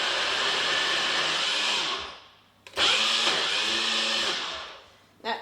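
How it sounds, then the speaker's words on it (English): A NutriBullet blender whirs loudly while blending a hummus mixture, running in two sustained bursts separated by a short pause, the second ending in a brief restart. "So for my NutriBullet to get it to work, all I do is press it down, and it's quite loud"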